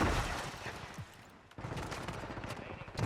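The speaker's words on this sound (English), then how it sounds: "Hear gunshots ring out upstairs." Bursts of Call of Duty: Warzone gunfire crackle through a busy mix, repeated rapid shots upstairs with a brief lull midway before the shooting resumes.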